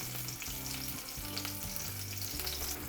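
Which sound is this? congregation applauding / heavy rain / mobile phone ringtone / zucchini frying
zucchini frying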